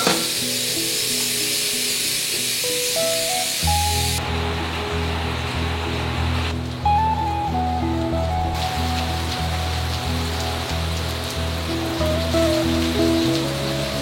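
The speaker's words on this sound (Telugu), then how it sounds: "అండ్ ఎస్పెషల్లీ నాకైతే ఈ రెయిన్ సౌండ్స్ చాలా బాగా అనిపిస్తాయి." Rain falls on a surface in a continuous close hiss of drops, with sustained musical tones layered underneath for most of the stretch.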